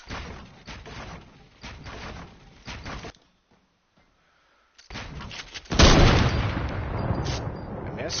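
Gunfire in a video game comes in bursts of rapid shots, loud and close, broken by a brief near-silent gap before a heavier, denser burst of firing and impacts.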